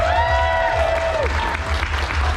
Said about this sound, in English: How about a huge round of applause for that?